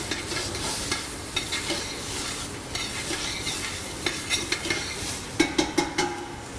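Peppers and onions cook down in a pot, giving a continuous close sizzle while a utensil stirs and scrapes, with clinking strokes growing sharper and more frequent toward the end.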